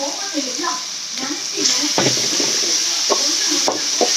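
Tomatoes with coriander and mint sauté in oil in a pan for vada curry, a steady close sizzle broken by scraping spatula strokes, with a voice talking over it.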